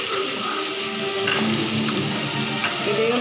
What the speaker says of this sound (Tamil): இப்போ நல்லா கத்திரிக்காய் நல்லா எண்ணெயிலே வதங்கட்டும்.